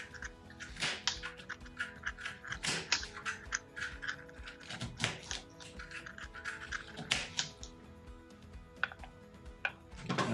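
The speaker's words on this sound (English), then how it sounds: "She did a quick peel on the beet as well. Cut that into cubes." A knife chops peeled beet into cubes on a cutting board, sharp close taps and clicks at an irregular pace with faint background hum and no talking.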